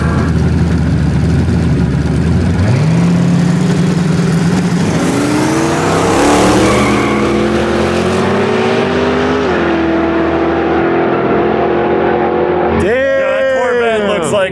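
A heads-up drag race between a 1,200 hp twin turbo LS Corvette and a 600 hp twin turbo LS 1927 Dodge: loud engines rev and climb in pitch as they launch and pull away, then the roar fades and another revs up near the end.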